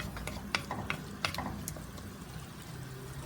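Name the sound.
kimchi frying in oil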